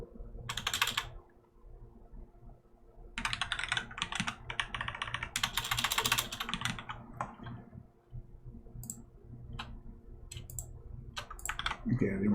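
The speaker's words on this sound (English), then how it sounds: "notice all it is you're just typing in these special commands" Keyboard typing while entering HTML commands into a computer, with bursts of quick key clicks that start and stop over a steady low hum and a quiet voice in the background.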